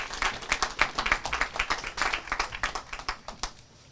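An audience at a 9/11 twentieth anniversary remembrance evening applauds the mayor, brisk uneven clapping from a crowd that swells and then tapers off.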